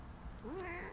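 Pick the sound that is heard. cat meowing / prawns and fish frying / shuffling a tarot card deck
cat meowing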